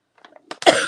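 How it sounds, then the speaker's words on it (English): A person coughs once, close and sharp, after a few faint breathy sounds. "I'm so sorry I'm coughing in your ear."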